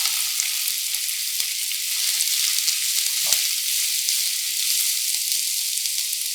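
Chopped onions hit hot oil in a pan and fry with a steady, loud hiss and crackle, broken by a few faint clicks of stirring.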